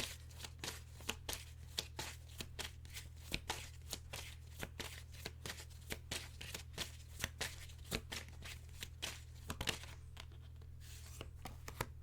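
A deck of tarot cards shuffled continuously up close, with rapid rhythmic riffling and slapping of the cards over a steady low hum, no talking.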